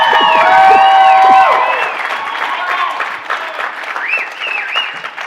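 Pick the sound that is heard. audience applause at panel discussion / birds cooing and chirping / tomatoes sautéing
audience applause at panel discussion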